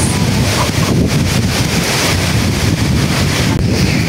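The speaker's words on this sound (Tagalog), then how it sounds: "yung hangin. Lalo pa pong lumalakas." Strong typhoon wind roars steadily and loudly, buffeting the microphone without a break, with a watery rushing underneath.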